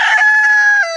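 A farm rooster crows once, loud and close, in a long sustained call that drops in pitch at the end.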